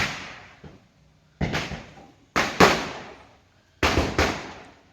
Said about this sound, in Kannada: ಪಟಾಕಿ ಅಂತೂ ಜೋರಿದಾವೆ